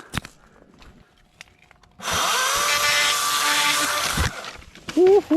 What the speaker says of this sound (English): we're gonna use the Badger 40 volt chainsaw